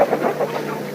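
Farmyard chickens cluck in a steady busy patter, fairly loud and close, with no talk over them.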